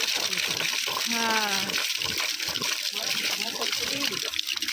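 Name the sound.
water flowing from a tap while filling water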